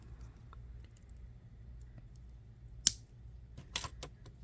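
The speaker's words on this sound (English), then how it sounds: "I'm going to cut this extra little bit off" A single sharp snip of cutters trimming excess beading wire on an earring, near and brief midway through, followed by a few light clicks and metallic handling sounds in an otherwise quiet room.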